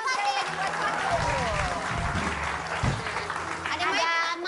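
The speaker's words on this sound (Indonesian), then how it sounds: "Boleh tepuk tangan buat Fatih." Applause from a TV studio audience rises under ongoing talk and laughter from the stage, the clapping moderate and continuous for several seconds.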